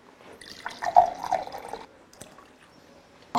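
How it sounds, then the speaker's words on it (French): Water from a glass is poured into the centre of bread flour for homemade baguette dough. It is a short, close pour of about a second, with a faint trickle and a soft knock afterward. "Et on rajoute un tiers de ce verre-là d'eau"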